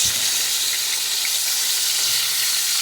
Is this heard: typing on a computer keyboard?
no